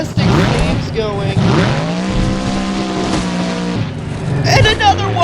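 Monster truck engines roaring in a freestyle competition at Rogers Centre, loud revving that rises and falls with tyre squeal, under an excited commentator's voice.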